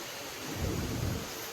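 Heavy rain pours by the flooded Godavari river near Mahegaon Deshmukh, with a broad steady roar and a deep thunder rumble swelling in the middle, close and loud throughout.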